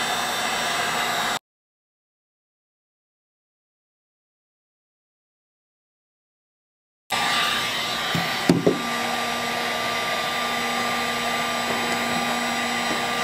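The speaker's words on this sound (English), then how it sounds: "I'm going to heat up the adhesive, making sure I point away from the LCD." A heat gun blows hot air onto the adhesive along the edge of an iPad 3 screen, giving a steady, close airy whoosh that cuts out for several seconds, then resumes with a couple of brief knocks.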